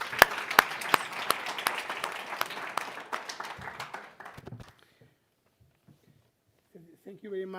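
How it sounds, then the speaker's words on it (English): Conference audience applauding a speaker heading to the podium, loud dense clapping with a few sharp claps that thins out after about four seconds and fades to near silence, followed by faint speech at the end. "So let's give him a big round of applause"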